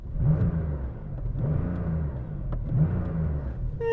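A Porsche 911 engine revs up in repeated bursts, three rising swells of loud, close rumbling roar with a whirring edge, each falling back between pulls.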